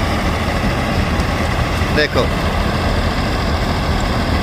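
A combine harvester working a mustard crop drones loudly and steadily, with a brief spoken word partway through.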